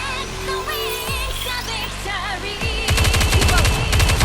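Automatic gunfire in the anime shooter Goddess of Victory: Nikke, opening with a couple of heavy shots before dense rapid bursts crackle loudly over music and game effects.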